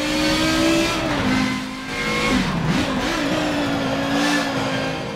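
Audi race car in Forza Motorsport 7 revving with its turbocharger spooling, a steady loud engine drone that rises and falls with a brief dip, heard alone without talk.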